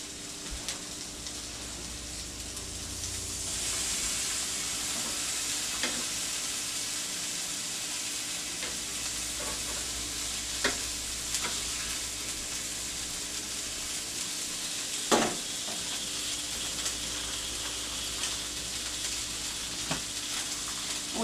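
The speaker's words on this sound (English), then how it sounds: "We are going to put 6 slices of bacon on here. And I'm going to let it cook for a moment." Six bacon slices sizzle and crackle steadily in a greased pan, a dense continuous frying hiss with scattered louder pops and spits throughout.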